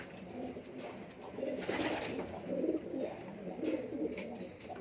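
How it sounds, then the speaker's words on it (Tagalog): Pigeons coo in repeated soft, throaty phrases in Quiapo, Manila, several birds close by, with a gentle rhythmic murmur running throughout. "Marami pa tayong kulang na kalapati. Papasok na siya, oh."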